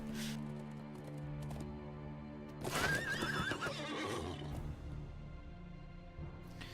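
A horse neighs in the Lord of the Rings Online game while being ridden past orcs: one drawn-out whinny rises midway over a quiet, steady background, with faint hoof clopping.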